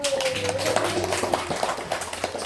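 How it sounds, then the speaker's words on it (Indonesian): A small group claps steadily for a girl after her Quran recitation, light patting applause with a faint tone sounding through the first second. "Tepuk tangan dulu"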